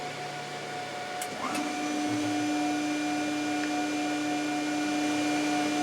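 A Built-Rite machine runs with a steady electrical hum and tonal drone, with a brief click and pitch shift near the start, then holds a constant, moderately loud whine with no one talking.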